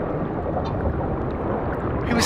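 Rushing, gurgling water flushing in the sci-fi horror game Soma, a steady loud churning wash that holds throughout and swells slightly at the end.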